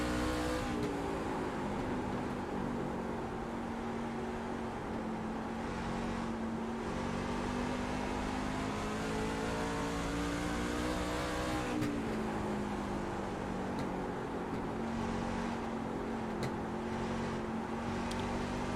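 A short-track Superleague race truck's engine is heard from onboard as the driver stays fairly easy on the gas. The steady, moderately revving drone shifts pitch gently through the laps, continuous and close, without speech.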